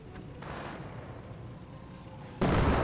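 Artillery barrage in the World War II strategy game Company of Heroes: a steady rumbling wash of distant shelling that builds into a loud, close blast near the end.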